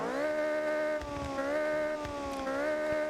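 A 63-horsepower base car engine in a racing video game hums at a steady idle-like drone with a strong tonal pitch that dips slightly and rises again, loud and continuous with faint clicks underneath.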